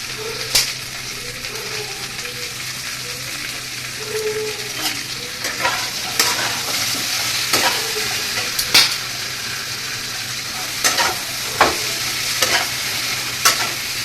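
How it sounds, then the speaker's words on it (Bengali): Spices with turmeric and salt get stirred in a pan, steady scraping strokes and sharp utensil taps over a soft, continuous sizzle. "এবার একটুখানি নাড়াচাড়া করে"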